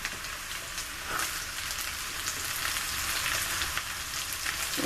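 Home fried potatoes sizzle steadily in a pan as they are turned over. The crackle is soft and continuous, with a brief louder scrape as they are flipped.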